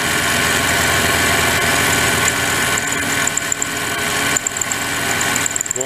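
A Harbor Freight mini lathe running at 1200 RPM gives a loud, steady mechanical drone with a continuous whine and hum, close by, with a few small clicks near the end.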